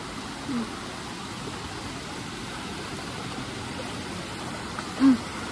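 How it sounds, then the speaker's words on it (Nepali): A steady, even roar of rushing water, like a waterfall, fills the scene at constant loudness, with a faint soft thump near the end. "झरना"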